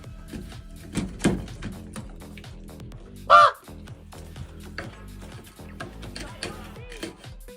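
Crows cawing in a short harsh burst partway through, set against a busy, dense background of mixed sounds.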